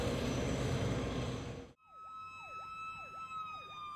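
An emergency vehicle siren wailing near a roundabout, a repeating rising-and-falling electronic tone cycling about four times after a burst of broadband road noise cuts off.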